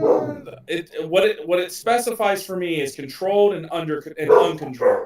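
A German Shepherd barks in the background while a person keeps talking over it.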